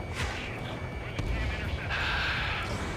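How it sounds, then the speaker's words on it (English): Missile launches and explosions from the Ace Combat 7 video game make a broad rumbling roar with whooshing surges and dull bursts, close and continuous, with voice chatter mixed in. "Missile launched."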